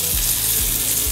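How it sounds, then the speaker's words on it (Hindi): Loud, steady sizzling as hot tempering oil is poured onto red chutney, a continuous hiss filling the whole moment with no voices. "ये तड़का चटनी पर डाल देती हूँ।"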